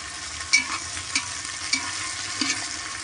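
Onion fries in oil for Khandeshi khichdi while being stirred, a continuous soft sizzle punctuated by a few scraping clinks of a spoon against the pan, no talking.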